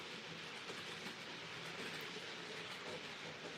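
Class 37 model train locomotive running on a layout, heard as a steady, faint rolling hum and rail rumble with soft clickety-clack, continuous and unbroken throughout.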